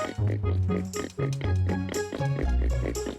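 Pigs oink repeatedly in The Legend of Zelda: The Wind Waker, a quick series of loud, close grunting snorts in an uneven rhythm, with no talking over them.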